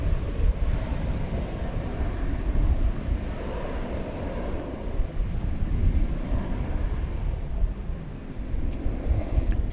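An American Airlines Boeing 737-800 takes off at Dallas/Fort Worth airport, a steady low jet-engine roar rumbling continuously throughout, with wind buffeting the microphone and no voices.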